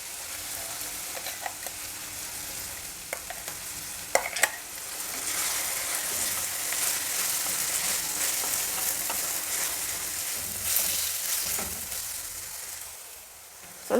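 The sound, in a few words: frying ground masala paste with onion and peas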